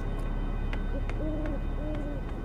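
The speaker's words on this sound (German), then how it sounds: "Ja, Eule Huschka, ist ja gut" An owl in the horror game Passing Pineview Forest hoots several times in a clear sequence of short rising and falling calls over a steady low background hum.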